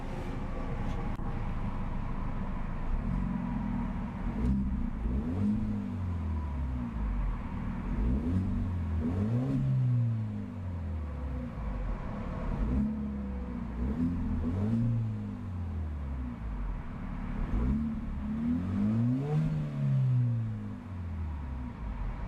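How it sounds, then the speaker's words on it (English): 2014 Hyundai Genesis Coupe 2.0T with its 2.0-liter turbocharged four-cylinder revved in a series of quick blips, each rising and falling, deep and bassy, fairly faint over a steady background. "a few quick revs of that 2-liter turbocharged 4-banger"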